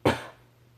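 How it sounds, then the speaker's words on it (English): A single short, sharp cough bursts out close by from a person with a lingering cough, then fades quickly into a faint steady hum. "I still have a cough"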